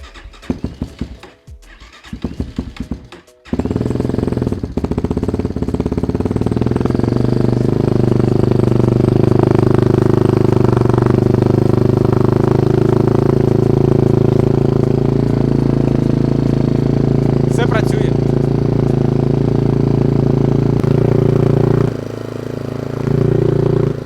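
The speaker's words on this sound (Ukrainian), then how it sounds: "Ну а так мотоцикл просто працює на холостому ходу." A new 2023 Kovi Advance 300 enduro motorcycle with only 13 km on it, idling close by. After a few seconds of handling noise, it settles into a steady, loud, deep and bassy exhaust drone that holds evenly with a brief dip near the end.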